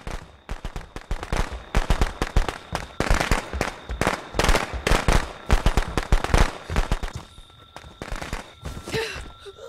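A firecracker crackles in the Friday the 13th video game, a rapid, irregular volley of sharp pops that runs loud and close for nearly ten seconds.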